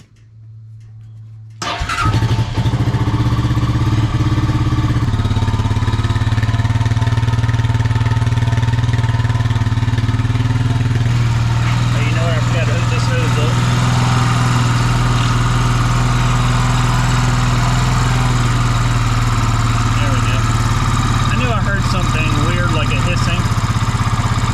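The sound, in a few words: old Honda ATV engine idling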